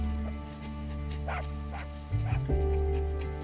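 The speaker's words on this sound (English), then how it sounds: "Was that her dog? That lady's dog?" A dog barks a few times in a scene from The Walking Dead, sharp mid-distance barks rising over a steady musical score and low background rumble.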